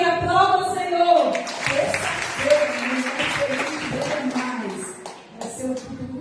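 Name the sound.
congregation applauding in church service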